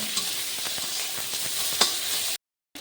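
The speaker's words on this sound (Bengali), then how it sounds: "কুচানো পেঁয়াজ কুচি দিয়ে দিচ্ছি পেঁয়াজগুলি আমি লাল লাল করে ভেজে নেব" Chopped onions frying in a pan for a chicken dish, a steady close hiss of sizzling with faint stirring clicks, cutting off briefly near the end, no talk.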